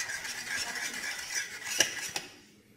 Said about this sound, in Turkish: Kaynayana kadar karıştırıyoruz.